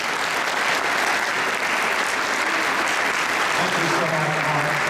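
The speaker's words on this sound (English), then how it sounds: "Please give a nice round of applause for our United States Senator Richard Blumenthal." Dense, sustained audience applause for a United States senator at a town inauguration ceremony, loud and even throughout, with a voice briefly audible near the end.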